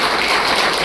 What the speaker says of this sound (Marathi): जरा टाळ्या एकदा होऊन जाऊ द्या।